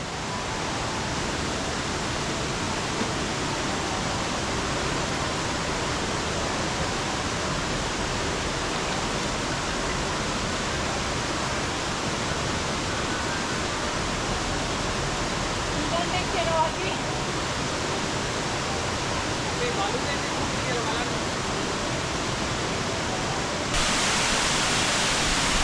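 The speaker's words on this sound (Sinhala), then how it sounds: "මේ කොස්කොල්ල ඇල්ල." Koskolla waterfall roars as a constant, loud rush of falling water that holds steady the whole time with no other sounds standing out.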